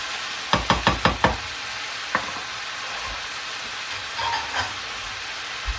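Spinach, tomatoes, onions and garlic fry in a pot under a steady sizzle, opened by a quick run of five sharp utensil knocks and a few scattered clinks later on.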